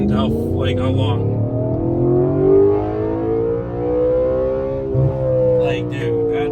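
A 2014 Audi RS5 V8 with faulty fuel injectors pulls slowly through a long first gear, its loud, steady tone rising gradually under intermittent talk, then easing off briefly before continuing.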